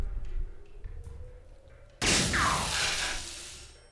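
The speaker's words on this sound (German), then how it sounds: "Das war ein grandioser Schuss." A gunshot in the video game Homefront: The Revolution hits as one sudden loud blast at the two-second mark, followed by a bright, noisy echoing decay that lingers to the end. Some faint low activity comes before it.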